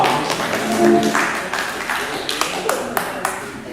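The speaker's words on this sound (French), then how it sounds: "pouvez l'applaudir bien fort" Cabaret audience at an evening show in Mérindol applauding a performer, a dense wash of clapping with scattered sharper claps standing out, mixed with talk and crowd noise throughout.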